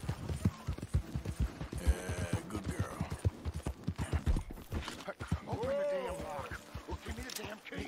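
Hoofbeats from a horse in the Western video game Red Dead Redemption clop in a steady rhythm under a man's speech, with a short whinny-like tone near the end.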